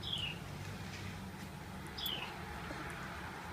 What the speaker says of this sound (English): You hear that bird up there?